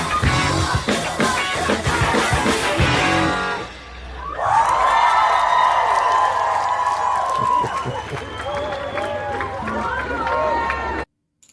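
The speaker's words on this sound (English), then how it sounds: "Crowd is absolutely loving it" A concert crowd cheers, whoops and roars after a live cover, loud and sustained, dipping briefly before surging again with scattered shouts.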